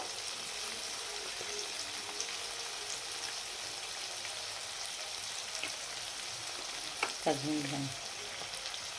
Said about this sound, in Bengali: একটু নাড়াচাড়া করে নেব মশলাটা ভালো করে।